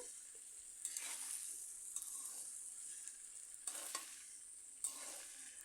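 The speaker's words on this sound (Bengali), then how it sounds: "আলু লাড়িয়ে চাড়িয়ে কিছুক্ষণ ভেজে নেব কিছুক্ষণ ভেজে নিচ্ছি দেখুন" Potatoes frying in a pan for an egg dish, a soft steady sizzle broken by occasional scraping stirs, fairly quiet and close, with no talking.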